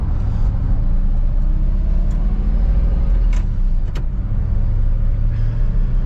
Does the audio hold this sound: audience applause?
no